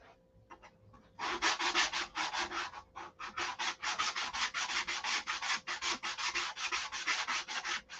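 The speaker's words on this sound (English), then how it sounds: "Got too aggressive with the sandpaper. Probably was the 80 that I used on that." Hand sanding a SIG Magnum with coarse 80-grit sandpaper, a fast, even rhythm of raspy back-and-forth strokes, close and fairly loud, continuing steadily after a few light initial passes.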